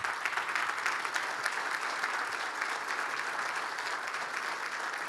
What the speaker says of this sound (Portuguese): E eu queria pedir uma salva de palmas para o Dr. João Lima, que está aqui presente.